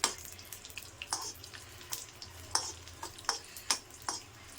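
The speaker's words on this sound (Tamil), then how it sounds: "முந்திரியை நல்லா இதில் வறுத்துக்கலாம். இந்த நெய்யிலே வறுத்துக்கணும்." Cashews sizzle softly frying in ghee with regular scraping stirs, a spoon clinking about every half second, quiet and close.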